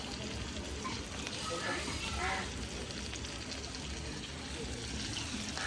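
Ground ginger, cumin, coriander and chilli pastes with turmeric fry steadily in a pan at a Bengali home kitchen, a continuous close sizzle with soft stirring scrapes throughout.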